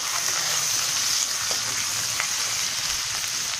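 Turmeric and curry leaves sizzling and frying steadily in hot oil, a constant bright hiss with a few soft stirring scrapes, close and fairly loud with no talking.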